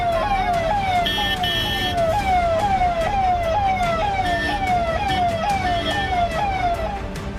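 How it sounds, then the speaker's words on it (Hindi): A wailing siren rises and falls in rapid repeated sweeps from an ambulance speeding along a road with a police Vajra armoured vehicle following close behind, loud and continuous over steady traffic rumble. "तस्वीरों में आप देख सकते हैं एम्बुलेंस के पीछे एक वज्र वाहन भी तेजी से दौड़ रहा है"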